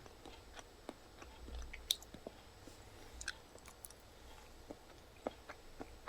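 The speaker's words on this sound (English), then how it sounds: "And let's go ahead and taste it." Whole black garlic from Costco being chewed close up, soft, sticky, irregular mouth clicks and squishes at a quiet level, with no talking.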